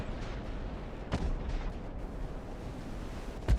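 Heavy naval gunfire in the Ultimate Admiral: Dreadnoughts battle of the North Cape, with 11-inch guns on a warship: a rumbling low roar of battle, with two sharp, loud cannon blasts standing out.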